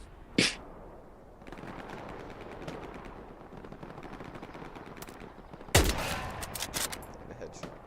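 Gunfire in a video game: two sharp, loud shots, one near the start and another about five seconds later, over a steady bed of in-game background noise.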